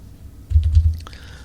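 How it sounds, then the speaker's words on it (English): A few quick keystrokes on a computer keyboard, soft and close, over a low background rumble in a podcast studio, with no speech. "as you hear me typing"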